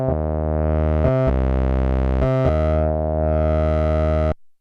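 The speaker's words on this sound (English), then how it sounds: "that's the Steiner Parker filter going through the ladder filter distortion" Sustained buzzy synthesizer tones from a Steiner-Parker filter run through ladder filter distortion, with a distorted, harmonic-rich edge, shifting pitch in a few held notes before cutting off abruptly.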